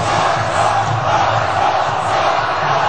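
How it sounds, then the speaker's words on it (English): Large stadium crowd cheering for Ron Paul after straw poll results, a dense sustained roar of voices and shouts that stays loud and even throughout. "the cheering is happening here for Ron Paul in the stadium."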